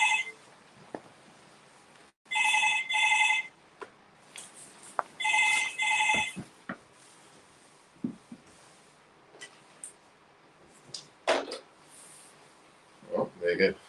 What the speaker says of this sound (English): I'm sick of people ringing me on my phone during the show.